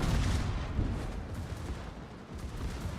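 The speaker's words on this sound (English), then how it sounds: "The obligatory exploding Nuremberg, everyone." A Nuremberg warship blowing up in a naval battle game, heard as a dense, sustained rumbling roar of explosion and gunfire that fills the whole stretch without letup.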